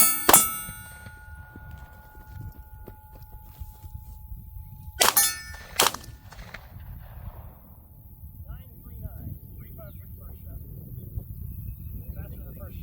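Gunshots ring off steel targets during a timer drill: a sharp shot and clang at the start, then a quick pair of ringing metallic hits, each with a short ringing tail, over quiet outdoor background with faint shuffling.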